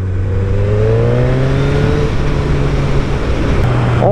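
A 2024 Suzuki GSX 1300R Hayabusa motorcycle engine drones steadily and loud, its pitch sliding up and down through revs, with a higher rising whine near the end.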